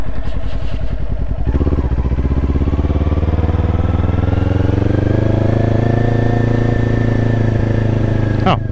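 Kawasaki Ninja 400 motorcycle ridden through city streets, its engine revving up steadily through the gears with a loud, rising whine and rumble close to the rider.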